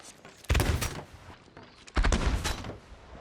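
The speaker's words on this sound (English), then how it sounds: "if you hear the sound when you shoot and your bullets are empty" Gun in Sea of Thieves firing two sharp, loud bursts of shots about a second and a half apart, each trailing off with echoing rumble, quieter gaps between them.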